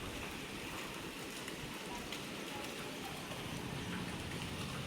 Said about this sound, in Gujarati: જો અત્યારે બહાર ચાલુ જ છે આપણો વરસાદ